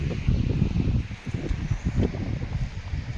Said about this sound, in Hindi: तेज़ हवा चल रही है एकदम।